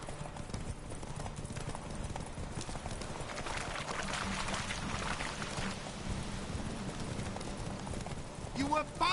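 Horse hooves clip-clopping rapidly in a steady galloping rhythm from the video game The Witcher 3: Wild Hunt, continuous and fairly close over ambient game sound, with a voice speaking briefly.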